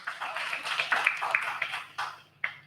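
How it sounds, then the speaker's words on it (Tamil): An audience at a monthly astrology trust seminar gives a speaker a round of moderate, scattered applause, with sharp individual claps standing out over a lingering voice. "ஐயா அவர்களுக்கு ஒரு கரகோஷத்தை கொடுக்குமாறு கேட்டுக்கொள்கின்றோம்"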